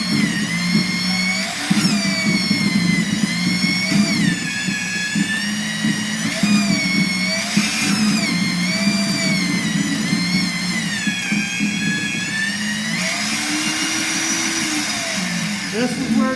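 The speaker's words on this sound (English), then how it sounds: "Now we turn on the switch, and as you see, it starts spinning." An HDPE pipe butt fusion machine's facer spins steadily with a continuous mid-pitched motor whine that wavers in pitch, close and loud throughout, with a person talking over it.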